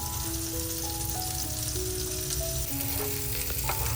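Bombay duck (bombil) fish frying in a pan, a steady close sizzle with crackling oil pops throughout and no talking.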